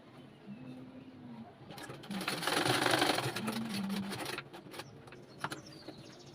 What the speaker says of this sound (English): I'll cover this up and sew here.